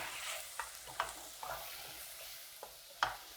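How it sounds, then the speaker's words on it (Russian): Sliced leeks softening in a pan, stirred with a utensil that gives several sharp scraping clicks over a soft, continuous sizzle, close and fairly quiet. "Перемешиваю."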